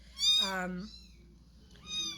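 Several high, thin kitten mews come close together, a louder one first and another near the end, over a quiet low hum.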